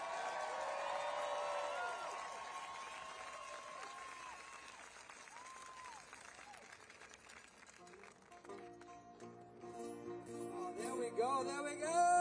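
A large outdoor protest rally crowd applauds, the clapping loud at first and then fading, before music and an amplified voice rise near the end.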